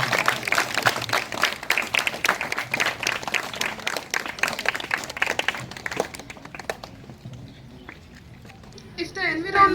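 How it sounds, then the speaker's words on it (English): Children clapping at an outdoor environment day felicitation ceremony, a dense burst of applause that thins out after several seconds, with voices and background noise continuing beneath. "Please give a round of applause,"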